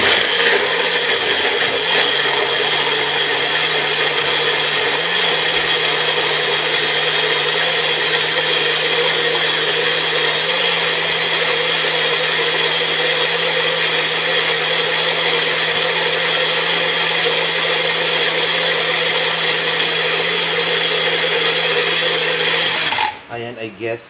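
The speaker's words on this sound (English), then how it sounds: "blend lang ulit natin." A blender whirs steadily for about 23 seconds, running a batch of chilli paste with extra onions at a constant loud pitch before cutting off abruptly at the end.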